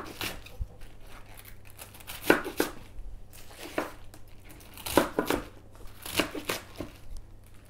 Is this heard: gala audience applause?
no